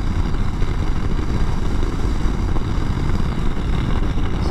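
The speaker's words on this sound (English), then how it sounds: "It is creating some very noisy wind though." Dense, steady wind roar buffets off the windshield of a 2021 Honda CRF300L Rally ABS at riding speed, loud and constant with a low rumbling undertone from the motorcycle.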